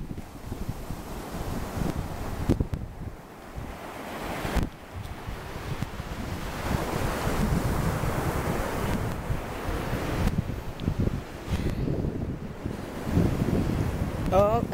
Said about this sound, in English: I just love the beach, man. I really do.